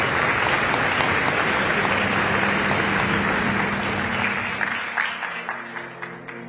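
Warm audience applause fills a large hall at the COP28 climate summit in 2023, a dense steady clapping that thins into scattered individual claps toward the end.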